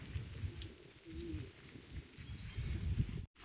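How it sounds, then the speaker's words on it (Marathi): Pigeons or doves cooing amid other birds in the evening at Matheran, a steady low coo under general outdoor ambience, moderately near, with a brief dropout near the end. "पक्ष्यांचे आवाज येत आहेत."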